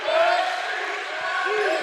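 Crowd at a youth academy basketball game, 22ft. Academy National against Evelyn Mack Academy, a steady broad roar of spectators with a commentator's voice running over it and faint low thumps beneath.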